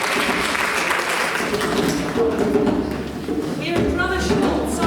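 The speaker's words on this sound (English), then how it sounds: "Can I hear a round of applause?" At a Wales awards ceremony in 2020, a crowd claps to welcome an African drumming section, a close, steady wash of applause mixed with low thumps and taps, and voices surfacing toward the end.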